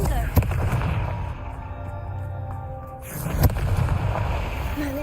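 A Confringo fire spell goes off in the Hogwarts Legacy video game, with sharp blasts near the start and later, a booming roar and rumbling effects between them.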